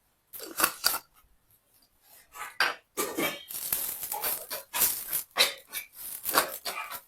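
Grated coconut and a spoonful of sesame seeds dry-roasting in a pan, with bursts of metallic scraping and clinking as they are stirred, separated by short quiet pauses.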